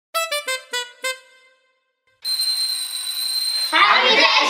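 A doorbell chimes in a house, five loud ringing tones in a quick run, followed after a pause by steady hum and then voices and movement.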